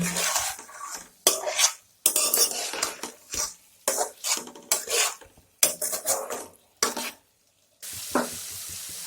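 Spices and salt stir-fried in a pan for a vegetarian moong dal and pointed gourd kalia, with a spatula scraping and tossing in repeated loud bursts separated by short pauses, and no voices.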